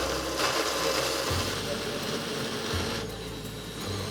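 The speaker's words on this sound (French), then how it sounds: "Voilà, on peut commencer à mixer." A blender mixes whole lettuce hearts and still-warm potatoes, giving a continuous mechanical whirr with a low churning rumble that changes load a few times, steady and close.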